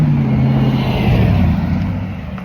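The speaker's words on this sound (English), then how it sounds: "oh, that's car." A car drives past on a highway, a loud steady engine and tyre roar that fades slightly toward the end, with no talking.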